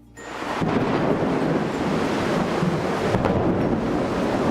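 Storm thunder rumbles low and continuous, a dense wide roar that swells in after a quiet start and holds steady, with wind-like noise over it and no voices.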